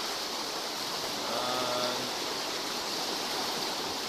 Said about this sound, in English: As you can see, there's been a shitload of rain.